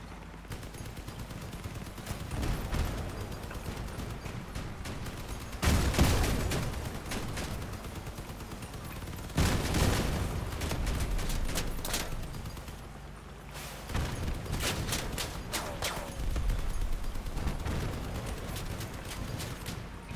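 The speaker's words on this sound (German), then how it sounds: "Oh, der ballert schon voll auf da." Vehicle-mounted weapons blaze away in the CrossOut online car-combat game, with dense bursts of rapid automatic gunfire and heavy impacts recurring in loud waves throughout, near and sustained.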